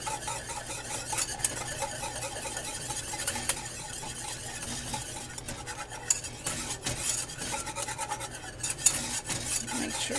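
Cocoa, sugar and flour being whisked into steaming, foamy milk in a pan for chocolate gravy, giving a steady, close scraping and stirring rattle throughout with occasional sharper clinks of the whisk against the pan.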